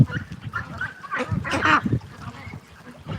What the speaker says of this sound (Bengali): এখানে প্রায় ছয় লক্ষ টাকার হাঁস আছে